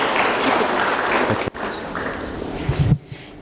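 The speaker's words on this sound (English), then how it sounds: "Can we have a round of applause for all the three speakers?" An audience applauds the speakers at a cancer registry meeting: dense, even clapping for about a second and a half, then a thinner spatter of claps that tapers off.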